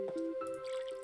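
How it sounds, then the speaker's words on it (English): Watering plants in the Zen Garden of the Plants vs Zombies video game: a short burst of cartoonish dripping and squishy splashes, with a couple of bright tonal chimes, clean and up close with no talk. "I need to water my plants"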